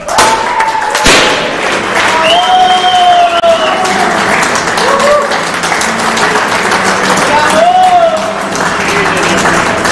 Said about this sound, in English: Round of applause, everybody, once again, please